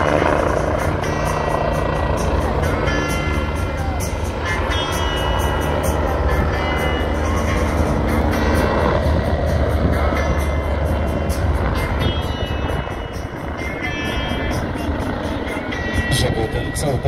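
An MBB Bölkow Bo 105 helicopter performs at an air show in Nowy Targ, its loud, steady rotor and engine roar continuing throughout, with someone speaking over it.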